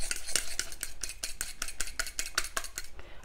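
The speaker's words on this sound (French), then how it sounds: "je vais venir mélanger les jaunes. Donc à l'aide d'une fourchette" Egg yolks whisked in a bowl with a fork, a quick steady run of about a dozen bright clinks and scrapes against the dish, close and alone.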